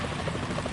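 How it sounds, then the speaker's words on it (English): Helicopter in the Metal Gear Solid 2 video game, a brief, steady rotor drone, loud and continuous with no voices. "Is that a chopper I just heard?"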